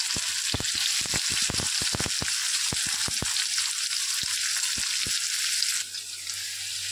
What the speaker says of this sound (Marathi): तेल चांगलं गरम झालेलं आहे। ह्यामध्ये टाकणार आहोत बारीक चिरलेला कांदा